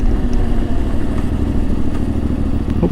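Ibex 450 motorcycle engine while riding on a commute, a steady low droning thrum with mechanical clatter, close and continuous at a constant pace.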